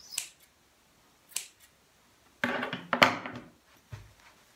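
Small scissors snip scraps of leftover fabric for free-motion embroidery on water-soluble fabric, giving a few sparse, quiet, close snips and clicks with short gaps between them.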